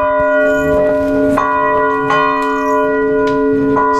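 A church bell in the old Texas town of Thurber, rung by hand with a pull rope, tolls loud and close with repeated strikes whose sustained metallic ringing overlaps and fills the space throughout.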